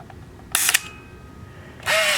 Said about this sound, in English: I'm going to point this right here into the light like that, and I'm going to watch the shutter.